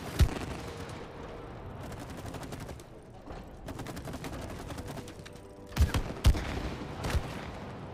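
Rapid gunfire from a co-op shooting sequence in the video game It Takes Two, bursts of fast shots over a steady game soundtrack, ending in a few louder thumping hits.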